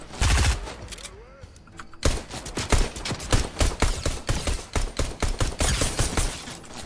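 Fortnite henchmen open fire in rapid bursts of automatic gunfire, loud and close, with one fast rattling volley running through most of the stretch and a player's voice heard briefly near the start.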